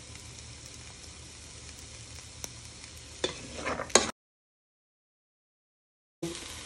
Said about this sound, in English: Now you're going to add in your carrots and parsnips to your pan. Give them a little stir.